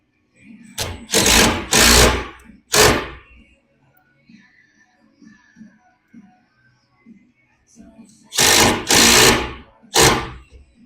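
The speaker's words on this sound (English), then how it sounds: "We'll just screw it right into this 2x6 shelf." A power driver sinks screws with washers into a 2x6 wooden shelf in a shop: a cluster of loud whirring bursts, a long quiet pause with faint background noise, then a second cluster of bursts.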